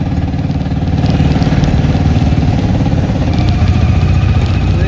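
A small auto rickshaw engine drones steadily and loudly close by as it travels over a new bridge on the way to Sathur in hot weather, its putter continuous for the whole stretch.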